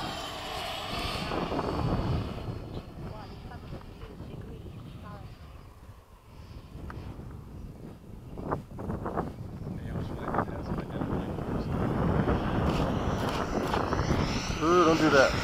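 A Skysword aircraft flies a midday demo at LFE, its engine droning and swelling as it passes, with wind buffeting the microphone and people talking over it.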